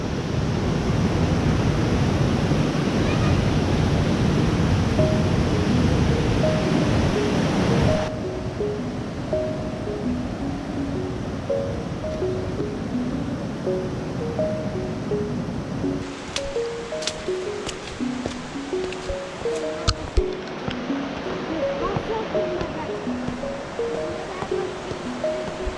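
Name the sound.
waterfall rushing in the Great Smokies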